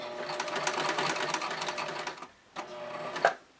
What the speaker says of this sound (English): So I'm going to stop there, and I'm going to back stitch, and then forward, back stitch.